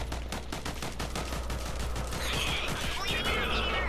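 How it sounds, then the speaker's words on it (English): A burst of rapid automatic gunfire from an LMG in the shooter game Rogue Company, rattling fast and fairly loud, then giving way to scattered softer shots and game effects. "They're already shooting."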